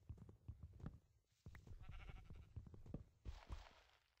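Sheep bleat repeatedly in a Minecraft world, several short close calls spread across the moment amid soft thuds of blocks being broken.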